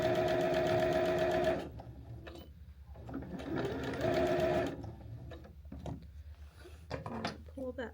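A sewing machine stitches a small tote bag made from fabric squares in two loud bursts of rapid whirring, separated by quieter handling sounds as the fabric is moved, with occasional talking.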